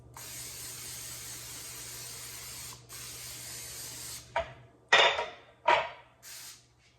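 An aerosol can of cooking spray hisses onto muffin tins in long continuous sprays, then several shorter bursts, close and fairly loud with no talking.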